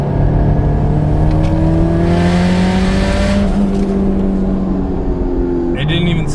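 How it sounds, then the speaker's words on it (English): A turbocharged Honda S2000 pulls hard in fourth gear, its engine loud and close, rising steadily in pitch, with a faint turbo whine and a brief shift sound near the end. "I'm going to try and do a 4th gear pull."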